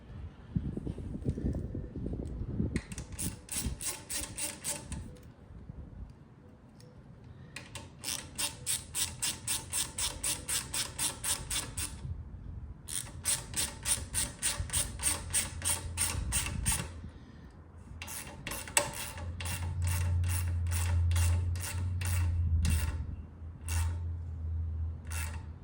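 A ratchet wrench tightens a 10 mm exhaust bolt on a motorcycle during a stealth exhaust install, giving repeated rapid clicking bursts in rhythmic strokes with short pauses between them, close and clear.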